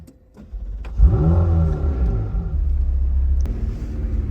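A McLaren 720S Spider engine starts with a sharp crack, revs up in a rising growl, and settles into a deep steady rumble as it pulls away.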